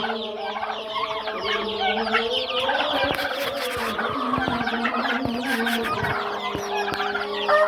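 Desi hens and month-old chicks cluck and cheep inside a poultry farm in Patiya, Chittagong, a dense overlapping chorus of near and farther calls with scattered louder squawks and sharp peeps.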